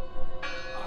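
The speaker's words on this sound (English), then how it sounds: "I heard the bell." A single bell rings out in the game Draugen, sounding as one short, resonant strike that swells and hangs briefly.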